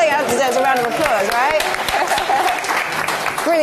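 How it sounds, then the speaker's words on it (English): An audience at a youth roundtable event breaks into applause, a dense burst of clapping heard close, with voices and cheers mixed through it. "I think that deserves a round of applause"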